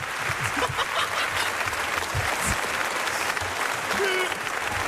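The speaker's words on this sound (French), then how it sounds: "on peut l'applaudir. bravo" A comedy-show audience in Metz applauds steadily for about five seconds, a dense continuous wash of clapping at moderate level with a few scattered voices mixed in.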